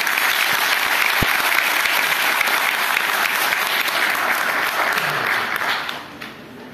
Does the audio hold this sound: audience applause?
yes